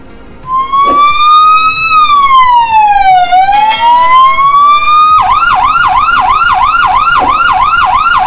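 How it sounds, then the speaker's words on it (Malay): A loud ambulance siren wails up and down slowly, then switches to a fast warbling yelp, continuous and close, with no voices. "bunyi siren van ambulan"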